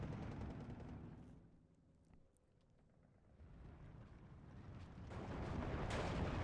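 Long Tom artillery guns fire in Steel Division 2, a rumbling barrage with booming reports and crackling gunfire that dips briefly then swells louder toward the end, with no talk.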